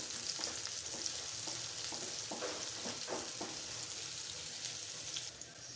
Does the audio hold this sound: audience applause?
no